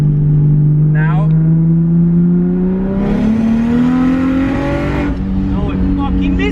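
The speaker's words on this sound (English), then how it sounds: "no, it fucking misfired!" A big-turbo BMW engine revs and climbs in pitch, then stumbles and misfires with sharp crackling bursts near the end, loud and close, with someone talking over it.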